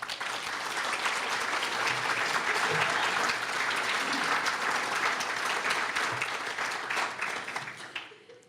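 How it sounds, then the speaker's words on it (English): Sustained applause at an awards ceremony for achievement honorees, a full, dense crowd clapping at even strength for about eight seconds and then fading quickly, with a few faint murmurs low beneath it. "a round of applause for Angela."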